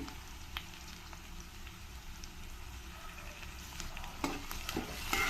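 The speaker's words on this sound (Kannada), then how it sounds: "ಇದನ್ನೆಲ್ಲ ಸ್ವಲ್ಪ ಚೆನ್ನಾಗಿ ಫ್ರೈ ಮಾಡ್ಕೊಳ್ತೀನಿ" Ginger garlic paste frying in a pan makes a quiet, continuous sizzle, with a few light stirring scrapes near the end and no talking.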